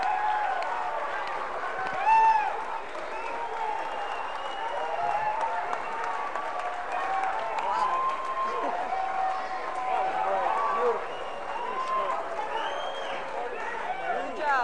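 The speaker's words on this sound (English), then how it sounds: "let's give a huge round of applause for Rene DeGuia" A large crowd at a 1999 timed competition applauds and cheers for Rene DeGuia, a steady, dense wash of clapping with high whoops rising above it, sustained for the whole stretch.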